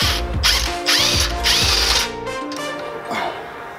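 Ratchet on an extension clicking rapidly in several quick bursts while backing out 14 mm bolts on a Nissan 350Z Z33 power steering rack, close and loud with metallic rattle.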